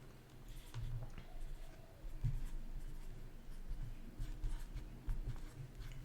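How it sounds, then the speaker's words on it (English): A pen scratches across paper while an algebra definition is written out, close and fairly quiet, with short irregular strokes and small taps over faint room noise and no talking. "just going to write the definition out again."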